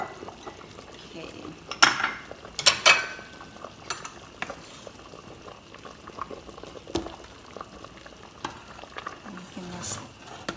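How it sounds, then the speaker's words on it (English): Thai chicken and potato soup stirred in a pot, with a few sharp clinks of a utensil against the pot rim over a low bubbling simmer, close and moderately loud, with faint talk in the background. "We can just stir just a second, and then we're done."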